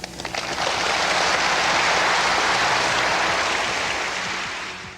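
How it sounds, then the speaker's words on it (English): A large audience applauds at the end of a talk, a dense, loud wash of clapping that swells in quickly, holds steady for several seconds, then begins to fade. "The applause he gets at the end is what you'd expect a rock star to get at the end of a concert"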